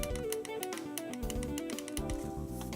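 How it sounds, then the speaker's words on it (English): Xbox One controller bumper buttons click sharply and close up in a fast, steady series of light taps that sound like mouse clicks. "the bumpers sound like I'm clicking a mouse"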